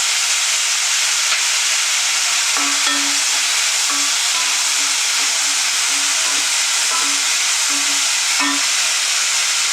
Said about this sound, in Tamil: இப்போ வந்து நம்ம கொஞ்சம் பச்சை மிளகா கட் பண்ணி வச்சுருக்கிற பச்சை மிளகா போட்டுக்கலாம்.